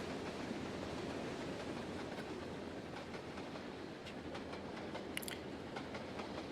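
A steam train in the Trainz Simulator video game rolls and brakes toward a stop, with a continuous broadband rumble and faint rhythmic wheel clicks and brief hissing, steady and fairly loud with no talk.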